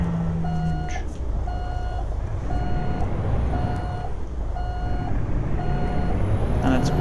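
A heavy truck in American Truck Simulator sounds a steady series of evenly spaced reversing beeps, about one per second, over a loud constant engine rumble.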